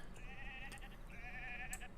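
Sheep bleat in a video game, two wavering, nasal cries one after the other over a soft background hum.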